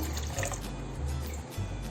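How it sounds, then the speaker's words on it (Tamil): Water pours into a cooking pot as samba rava sakkarai pongal is prepared, a steady close liquid trickle and fill lasting the whole moment, with no talking. "தண்ணி ஒரு 1/2 கிளாஸ் ஊற்றிக்கங்க."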